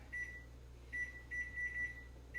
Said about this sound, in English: let's set our timer for 30 minutes